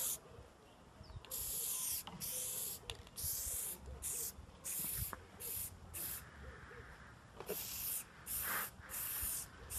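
Plasti-dip sprayed from an aerosol can onto the roof of an Opel Coupe Turbo, repeated loud hissing bursts of varying length separated by short pauses, with a voice heard faintly in between.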